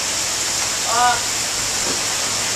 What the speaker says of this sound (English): The rain is coming down fiercely.